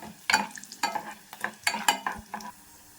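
Mustard seeds and urad dal, added by hand with other tempering seeds, crackle and splutter in hot oil, giving a string of sharp pops and bursts of sizzle over a low frying hiss, with no talking.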